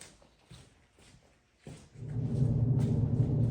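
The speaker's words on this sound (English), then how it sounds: "I'm gonna turn the fan on." A fan in a garage switches on after a quiet stretch of faint shuffling. Its low, steady whirring rises fast and then stays loud and constant.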